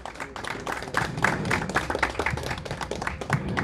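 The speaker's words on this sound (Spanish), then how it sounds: "Vamos a saludarlo también con un fuerte aplauso" Audience applause at a health ministry ceremony in Santa Cruz handing items to oncology hospital staff: a steady, dense patter of many hands clapping throughout, fairly close, with a little voice mixed in.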